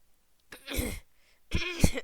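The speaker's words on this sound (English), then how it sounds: "Yeah, sorry, I need to clear my throat." Two separate rough throat clearings, close and fairly loud, with a brief silence between them and no speech.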